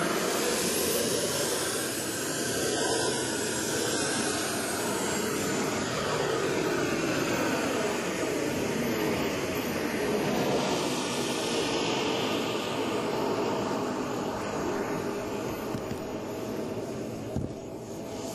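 A propeller airplane engine drones steadily as the aircraft taxis out to the active runway, a loud continuous hum with a slight shift in pitch, no voices.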